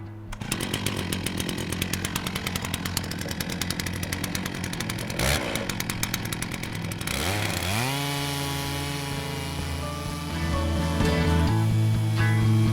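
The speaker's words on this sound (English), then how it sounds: "Turn the log into position and take the second cut." Logosol chainsaw mill cutting through a log, a close, loud, continuous saw engine buzz with the pitch shifting partway through the pass as the load changes.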